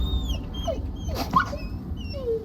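Wolves in God of War Ragnarok give soft, high whimpers and whines, a few short rising and falling cries over low background ambience.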